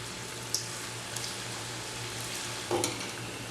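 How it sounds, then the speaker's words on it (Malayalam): Marinated chilli chicken pieces frying in hot oil give a steady, soft sizzle throughout, with a couple of brief clinks or splashes as pieces shift in the pan. "ഞാൻ ഇനി ഇത് ഫ്രൈ ചെയ്തെടുക്കാൻ പോകാം കേട്ടോ."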